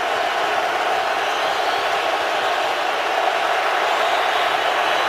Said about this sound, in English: Here comes the crowd on 3rd and 6 from the 19